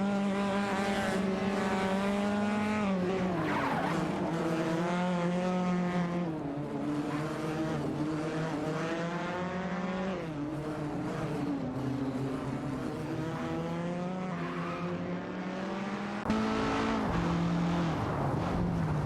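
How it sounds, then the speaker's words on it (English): A Lancia Stratos HF and a Porsche 904 racing side by side in a video game, two engines droning and revving in layered, shifting tones, loud and continuous throughout with no talking. "dueling it out for the 15th position in their Lancia Stratos, HF and Porsche 904 respectively"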